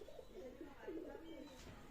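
Pakistani Teddy pigeons coo softly in a short run of low, throaty warbles, faint and close, with a brief murmur of a voice in the background.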